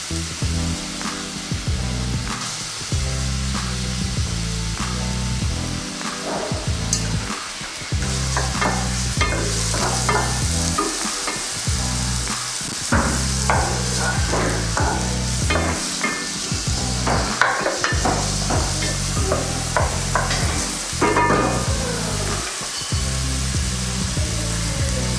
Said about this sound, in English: Alright, so I'm gonna throw my onions and peppers in.